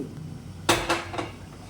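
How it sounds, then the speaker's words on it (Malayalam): A metal pot clanks down sharply on a lit stove, followed by two smaller ringing knocks as it settles; no talking. "സ്റ്റൗ കത്തിച്ചു പാത്രം അടുപ്പത്ത് വെച്ചു"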